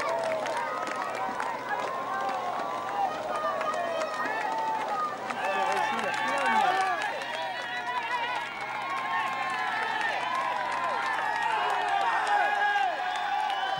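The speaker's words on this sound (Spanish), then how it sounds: "La gente que aplaude a los corredores al límite del esfuerzo en los grandes puertos de los Alpes" Roadside spectators on an Alpine climb of the Tour de France applaud and cheer cyclists as they pass, a dense crowd din that swells and stays loud throughout, with commentary talk underneath.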